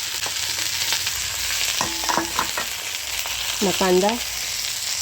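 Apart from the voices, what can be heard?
okra frying in a pan over a wood stove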